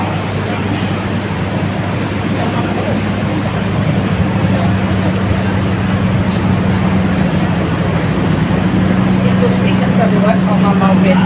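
Continuous heavy rumble of the KAI Kertajaya passenger train under way to Surabaya, a steady close drone with faint rattles and indistinct voices mixed in.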